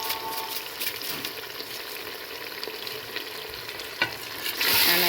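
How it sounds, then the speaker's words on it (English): Jollof rice being stirred in a pot after seasoning goes in, a steady scraping and sizzling texture with a few louder clinks near the end, close and without talk. "And I give it a stir."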